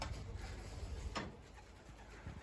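Young homing pigeons coo softly in a low, rolling murmur on a coop roof, with a brief flutter of wings partway through, outdoors and fairly close.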